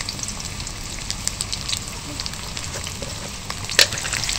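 Long potato strips frying in hot oil with turmeric in a Bengali kitchen, a steady close sizzle and crackle throughout with a brief louder spatter near the end.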